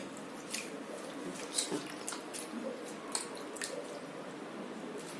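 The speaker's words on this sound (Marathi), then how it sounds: "लोणी असं छान असं करू करू धुवायचं" Homemade butter is squished and rinsed by hand in a bowl of water, giving soft wet squelches and drips in an uneven rhythm, quiet and close with no talk.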